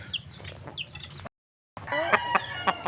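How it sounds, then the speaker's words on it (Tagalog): Chickens, including a rooster, cluck and call nearby in short bursts, broken by a brief moment of silence before the clucking resumes more loudly. "ito yung lalaking manok"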